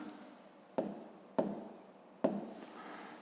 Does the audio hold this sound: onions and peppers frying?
no